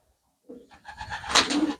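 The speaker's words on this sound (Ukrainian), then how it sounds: "І бачите, дикий голуб." A wild pigeon coos in a village setting, a single short soft call rising out of quiet, fairly close and not loud, with no talk over it.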